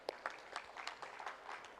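An audience at a book fair theme pavilion claps in a quiet, scattered round of applause, with individual claps standing out rather than a dense roar.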